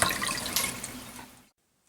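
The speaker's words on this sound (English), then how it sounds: "So we're going to let the hot water run a little bit longer to make sure we get all that air out." Hot water runs steadily from a household tap to purge air from the lines after a leak repair, a loud continuous rush that stops abruptly near the end, leaving near silence.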